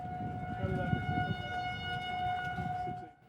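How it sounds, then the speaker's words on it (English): A Hennepin County tornado warning siren sounds during a test, a steady distant wailing tone with harmonic overtones, fairly faint over background noise, fading out at the end. "Hennepin County went ahead and held a test of the tornado sirens."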